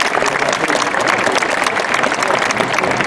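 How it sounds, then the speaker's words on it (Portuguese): A large crowd at the Vatican applauds Pope Francis in a dense, continuous wash of clapping, loud and steady, with a faint murmur of voices mixed in. "Aplausos para o Papa Francisco."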